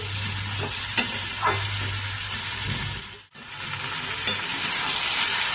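Potato and eggplant pieces sizzle in hot oil in a pan for a catla fish chorchori, under a steady, loud hiss broken by occasional spatula scrapes and a brief dip midway.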